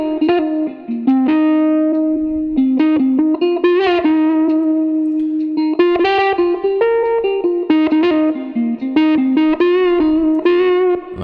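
Electric guitar run through Guitar Rig 6 with the EK Macombo preset for a soulful lofi mix, clean sustained melodic notes and chords with reverb and light distortion, played solo with short pauses between phrases.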